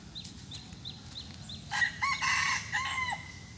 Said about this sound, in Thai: ไก่มาขันอะไรตอนนี้ไก่เพื่อนบ้าน